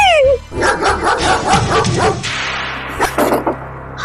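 A dog barks several times in quick, sharp bursts, fairly close, with some yips mixed in and a brief rising tone at the start.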